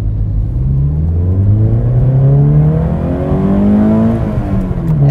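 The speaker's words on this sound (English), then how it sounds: "the way it just carries those revs up towards redline" Scion FR-S fitted with a Cosworth exhaust revs up toward redline, the engine note climbing steadily in a loud, close, rising drone from the cabin, with the pitch sweeping upward through the gears.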